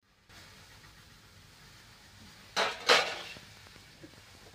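A knife lifts homemade papads off a flat surface, making two quick, sharp scraping sounds close by against an otherwise quiet background.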